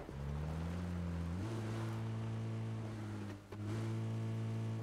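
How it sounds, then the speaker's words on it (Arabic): A steady, droning car engine hum in PUBG on the Erangel map, with a couple of abrupt pitch steps like gear shifts, sustained and fairly quiet throughout. "اخي سمعت سيارة انا ولا غلطان؟"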